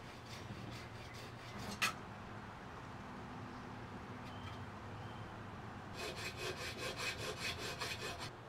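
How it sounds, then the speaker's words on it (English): A hand saw working through copper water tubing near concrete, faint scraping strokes at first, then a quicker, louder run of steady back-and-forth rasping toward the end. "I'll be using this saw to make the cut"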